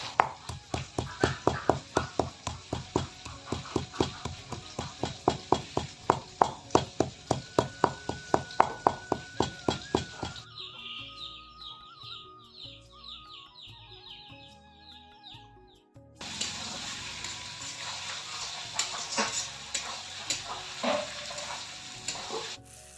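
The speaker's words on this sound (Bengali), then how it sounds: "যেহেতু হাতে বাটা মশলা তাই একটু ভালো করে ভেজে নিচ্ছি" Hand-ground spice paste frying with chopped ingredients in a pan, with a long run of steady rhythmic stirring scrapes over sizzling, a quieter stretch, then louder continuous sizzle and frying.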